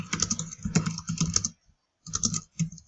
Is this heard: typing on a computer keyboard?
yes